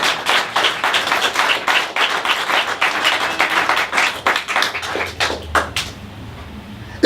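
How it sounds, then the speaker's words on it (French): A church congregation in Toulouse claps and applauds together, a dense, steady patter of many hands that fades out near the end. "Est-ce qu'on peut acclamer pour la parole de Dieu?"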